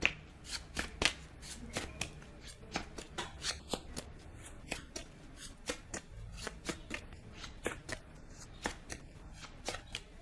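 Tarot cards being shuffled in a rapid run of crisp, papery riffles and snaps during a love reading, close and fairly quiet, with no talking.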